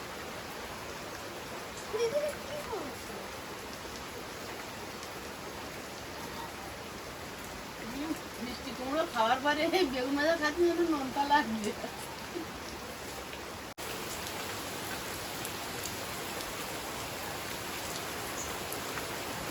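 Steady rain falling continuously the day after Cyclone Dana, a soft even hiss in the background beneath a woman's conversation and occasional household clatter.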